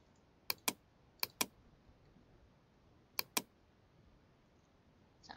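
Computer keyboard keys are pressed in quick pairs while brush size is adjusted in Photoshop, giving three sharp double clicks spaced apart over a quiet background, with no talking.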